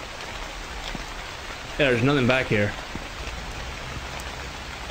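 Steady, soft hiss of rain falling in a Japanese convenience-store horror game, continuous throughout, with someone briefly talking over it in the middle.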